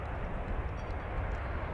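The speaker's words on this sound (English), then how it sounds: "That was flight 1019 coming in from San Jose, California, MAX 8" A Boeing 737 MAX 8 airliner arriving at DFW airport from San Jose, a steady broadband jet roar at moderate distance, continuous and even throughout with no talk.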